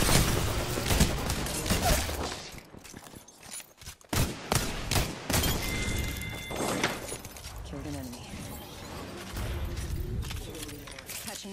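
Gunfire in a console shooter game, bursts of rapid shots and thumps with a shattering impact, loud and dense in stretches, broken by brief pauses while a player talks over it.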